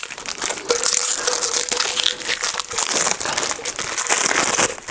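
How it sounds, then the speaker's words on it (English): Loud, continuous crinkling and crackling of plastic wrap being pulled off a new camera, dense and close, filling the whole stretch without pause. "it's going to make that awful plastic sound as I remove that wrap"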